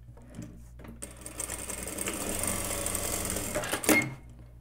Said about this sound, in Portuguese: eu vou costurar aqui no centro das costas